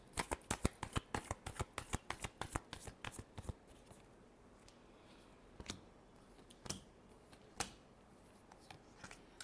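Tarot cards shuffled by hand in rapid riffling bursts, a dense run of crisp clicks for the first few seconds, then sparser single snaps and flicks, close and alone with no talking.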